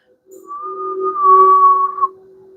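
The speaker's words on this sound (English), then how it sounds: "I meant to blow and I whistled instead" A person whistles a single sustained note, clear and close, for about a second and a half, with a slight rise near the end before it cuts off.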